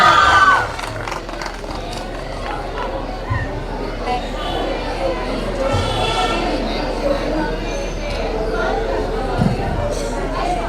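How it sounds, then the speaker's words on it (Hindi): A crowd at a school robotics competition prize announcement in Giridih claps and cheers loudly for the first-place robo race team, a dense wash of applause, shouts and children's voices sustained throughout, louder at the outset. "एक बार और जोरदार तालियां"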